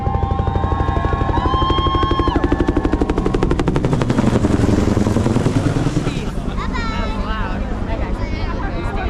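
A helicopter flies low over a crowded duck drop event at a Jeep gathering in Ocala, Florida, its rotor chop a loud, steady rapid pulsing throughout, with crowd babble and talk mixed in.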